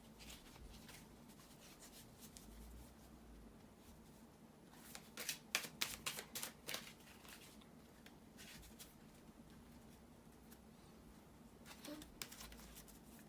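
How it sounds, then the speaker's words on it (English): Tarot cards are shuffled softly and close by against quiet room tone, with a cluster of quick riffling bursts in the middle and a brief second flurry near the end. "bear with me a second, guys, to shuffle the tarot cards"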